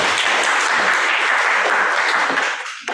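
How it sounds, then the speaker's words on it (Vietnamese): A room of attendees at a professional workshop on order management gives a presenter named Đức a full round of applause, thick and continuous, then it thins and stops abruptly near the end. "Các bạn cho Đức một tràng pháo tay nào"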